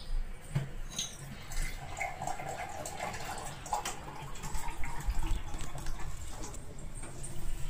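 Water, about one and a half glasses, is poured into a cooking pot of white pea and potato curry, making a continuous splashing rush close up, swelling louder toward the end.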